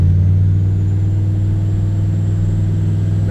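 A 6.5 diesel truck engine with turbo running under load, a loud, steady low-pitched drone and deep hum held close throughout with no talk.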